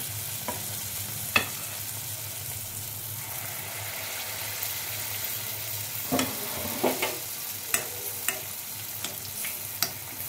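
Dry fruit malpua fries in very hot oil with a faint, steady sizzle. A spoon stirs or scrapes now and then with sharp clicks and taps, and no one speaks.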